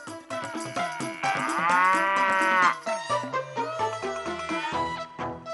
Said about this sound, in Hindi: भैंसों की तरह क्या खर्राटे ले रहे हो?